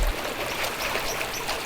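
River water flows steadily in Samburu National Reserve, a close, continuous rushing wash with no distinct splashes and no voices.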